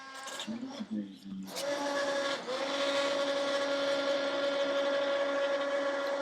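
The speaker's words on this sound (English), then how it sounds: "Here I'm still stick blending." A handheld blender whirs steadily and close by after a few clunks, its motor holding a constant droning pitch.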